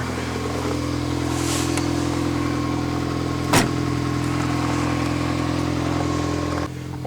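A car engine idles steadily while warming up on a snowy day, giving an even, close hum with one brief sharp knock midway and a slight drop in tone near the end.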